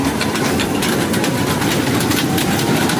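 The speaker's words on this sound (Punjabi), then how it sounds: "ਹਰਮਨ ਕਹਿੰਦਾ ਮੈਂ ਟ੍ਰੇਨ 'ਚ ਝੂਟੇ ਲਾਣੇ ਨੇ ਆ" A small amusement-ride train running at a village fair in Payal, Ludhiana district, a loud continuous mechanical rumble and engine drone close by, with no clear talk.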